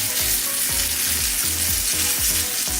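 Steak sizzles in butter in a hot pan, a loud, steady frying hiss crackling throughout with a faint low rhythmic thumping underneath.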